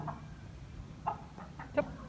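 Chickens clucking at a family home, a few short, soft clucks spaced irregularly over quiet background, moderately close.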